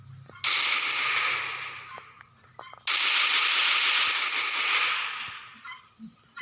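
A SCAR rifle from the game Free Fire, in an add-on mod, fires two long sustained automatic bursts that are loud and close, each a few seconds long and trailing off, separated by a short gap.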